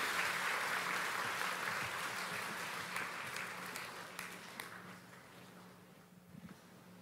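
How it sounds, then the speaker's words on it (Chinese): Audience applause welcoming the Nantou County government secretary-general to the podium at a temple guest-speech event, a steady wash of clapping that fades gradually across the clip. "我们掌声欢迎"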